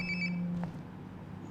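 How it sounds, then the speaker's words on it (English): A phone rings in the video game Life is Strange: Before the Storm, a short electronic ringtone trill followed by a steady tone, heard alone against a low background hum. "Sounds like my phone is definitely nearby."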